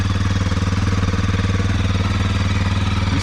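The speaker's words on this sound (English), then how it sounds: "just let it idle for several minutes" A Kawasaki KLX230R dirt bike engine idles close by with a fast, even single-cylinder chugging pulse, steady and loud throughout.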